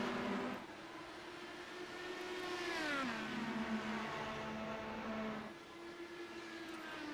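IndyCar race cars in a racing video game accelerate at a restart after the pace car pulls off, engines whining up through the gears with pitch sweeps and a steady, moderately loud drone.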